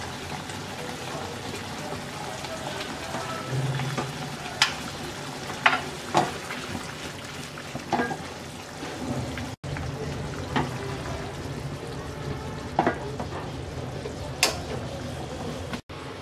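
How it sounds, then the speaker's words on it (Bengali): Eggplant curry with chopped coriander leaves being stirred gently in a pot, soft scraping strokes and occasional clinks over a steady low simmer and sizzle, close and fairly quiet, no talking. "5 মিনিট পর এবার আমরা দিয়ে দিচ্ছি ধনিয়া পাতা কুচি দিয়ে হালকা হাতে নেড়ে নামিয়ে নেব।"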